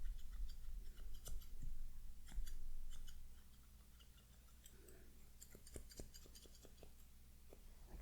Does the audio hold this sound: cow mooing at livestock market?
no